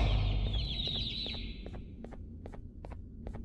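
Chicks clucking and cheeping in the video game Garten of Banban 2, bright chirpy calls at first, then a run of short evenly spaced pips over a low background hum.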